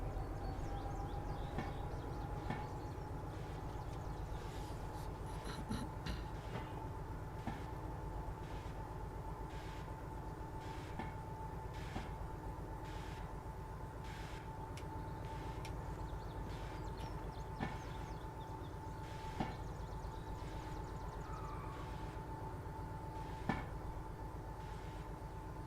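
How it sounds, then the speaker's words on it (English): Steady rail machinery hum and low rumble from a locomotive on a turntable in the train game Derail Valley, with faint clanks and ticks spaced through a continuous drone. "we'll have to pull it back onto the turntable, unhook the diesel hydraulic, and then spin the locomotive around"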